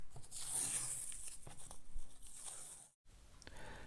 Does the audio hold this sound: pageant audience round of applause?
no